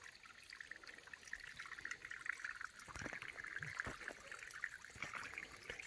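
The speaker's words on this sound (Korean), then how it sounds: "물잘 흐르잖아." Soft, continuous trickling of flowing water in a mountain village, faint and steady, with a few brief knocks and rustles partway through.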